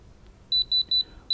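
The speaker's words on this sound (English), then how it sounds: "I have the diamond tester. And we're gonna test this out and see if it's a real diamond." A diamond tester checks a Cartier ring found while metal detecting, giving a series of sharp, high electronic beeps in a quick regular rhythm, four in a row and then one more after a short pause, loud against a quiet background.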